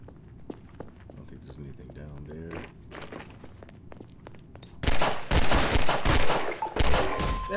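Gunfire in Half-Life 2: scattered single shots and footsteps early, then a loud, sustained burst of rapid fire in the last few seconds, with someone talking over part of it.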